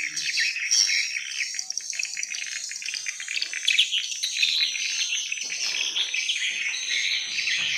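Swiftlet calls played through a tweeter speaker in a swiftlet house, a dense, continuous stream of high, rapid chirps and twitters, steady and fairly loud, with no talking.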